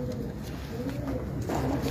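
A pigeon coos softly in low, throaty murmurs, close by, against a faint background hum.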